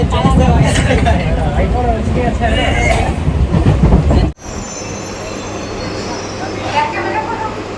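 A train arriving at a station on the Kolkata to Bangladesh route, loud rumbling wheels and squealing under chatter, then an abrupt cut to quieter steady running noise with a faint hum.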